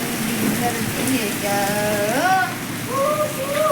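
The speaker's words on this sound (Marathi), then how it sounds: "चांगला पाऊस चालू आहे" Heavy monsoon rain at a farmhouse in June, with wind, falling steadily as a broad hiss close by, while someone talks over it throughout.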